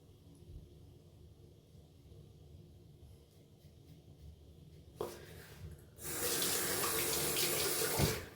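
Cold water runs from a bathroom tap during a wet shave, at first a quiet trickle, then the flow is opened up into a loud, steady gush that pours on to the end.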